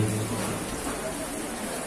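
Steady rain falls through an evening manaqib religious gathering, a continuous broadband hiss of drops on surfaces that holds at an even level and sits close, with a faint low hum underneath and no clear voices.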